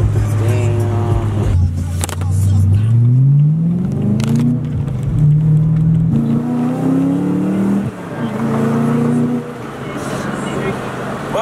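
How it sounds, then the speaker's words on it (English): Loud car engine and exhaust revving, pitch climbing and falling through several throttle blips with steady mechanical whir underneath; a voice talks over part of it. "your exhaust sounds good, like, but you can hear a lot of engine noise"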